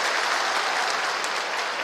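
A large audience at a panchayat secretaries' convention addressed by the chief minister breaks into applause, a dense, loud, continuous roar of many hands clapping at once that stays steady for the whole stretch.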